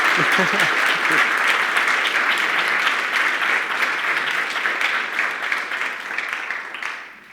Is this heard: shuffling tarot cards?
no